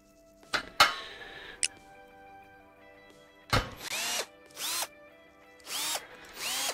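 Power drill in the video game Gas Station Simulator unscrewing screws, heard as several short, sharp whirring bursts separated by brief pauses and small clicks, close and clear with no voices.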